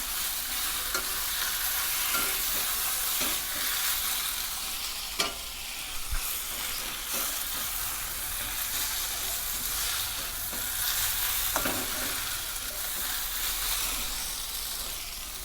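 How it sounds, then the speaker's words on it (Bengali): Chopped egg pieces fry in a pan with a soft, steady sizzle and hiss, broken by intermittent scraping and tapping of a stirring utensil. "জাস্ট আর একটু ফ্রাই করতে হবে এটাকে"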